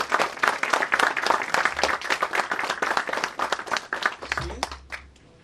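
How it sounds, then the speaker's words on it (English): Audience applause, a dense sustained burst of many hands clapping that carries steadily for about four seconds, then thins out and fades toward the end. "Let us give a round of applause."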